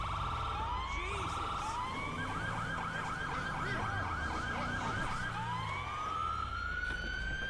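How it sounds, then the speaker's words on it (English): A police car siren from the GTA Online video game wails and yelps in rapid repeating sweeps, switching patterns midway, over a low engine rumble, fairly faint and unbroken. "they do have the same siren sound, which is actually rather irritating"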